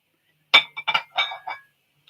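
Pieces of glowing glass clink together in a few quick, bright taps and rattles close by, brief and clear against near silence.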